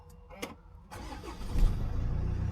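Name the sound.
car engine starting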